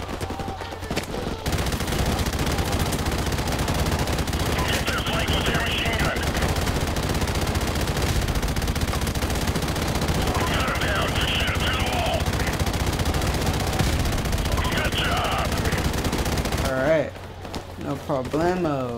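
Sustained automatic gunfire from weapons in the video game Modern Warfare Remastered, rapid bursts rattling loudly and continuously for most of the span alongside game effects, ending in a quieter stretch.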